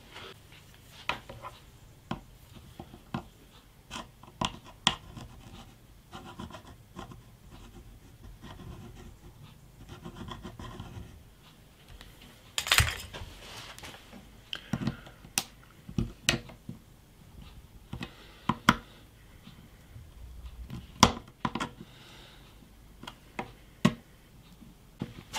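Guitar frets being heated with a soldering iron and pried up with pliers during a bass guitar makeover: scattered sharp metallic ticks and clicks, close and fairly quiet, with brief scraping bursts and no talking.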